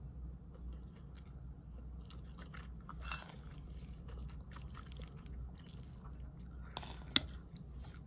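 Close, quiet chewing of reheated fried rice with chili, soft wet crunching and biting in a steady rhythm over a low background hum, with a sharper click near the end and no talking.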